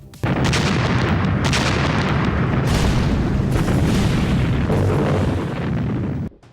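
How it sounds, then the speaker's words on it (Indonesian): Soviet artillery barrage in World War II archival footage from the July 1943 German offensive: a dense, loud, continuous roar of overlapping booms and blasts that runs for about six seconds, then cuts off abruptly. "tiba-tiba mereka dihantam oleh artileri Soviet yang dahsyat"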